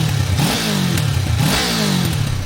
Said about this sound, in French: Calé à 180 degrés de façon classique, comme une Z650, bah, émet une sonorité forcément proche de celle de la Z650.